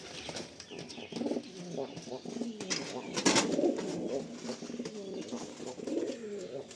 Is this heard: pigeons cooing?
yes